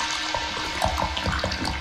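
A beatboxer on a loopstation, performing in a Grand Beatbox Battle 2019 loopstation round, mimics water droplets with a dense, wet, bubbling texture of quick mouth clicks and drips layered over a steady looped bed.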